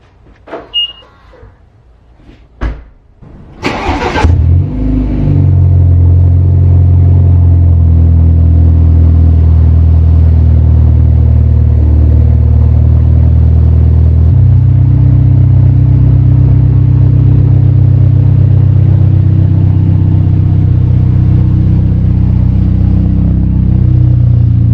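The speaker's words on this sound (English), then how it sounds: "Hope you guys enjoyed that little cold start" A BMW G20 with an AWE track exhaust cold-starts: a few clicks and a door sound, then the starter and a loud burst as the engine catches, settling into a deep, steady, close idle rumble.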